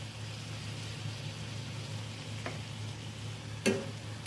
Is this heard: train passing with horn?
no